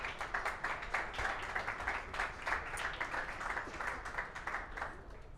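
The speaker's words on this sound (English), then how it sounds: "Hopefully a big round of applause for Meike as well from Hotelbird." Audience applause for Meike from Hotelbird closing a conference talk at CoCoBe 2022, a quiet, fairly distant patter of many hands clapping steadily for several seconds and thinning slightly at the end.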